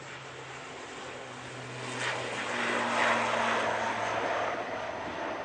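An airliner rotates on takeoff at Manchester Airport, its broad engine roar swelling close in front and then holding steady as it climbs, with a faint propeller-like drone underneath.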